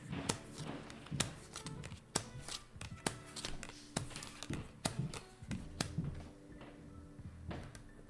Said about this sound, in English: What a shuffle I did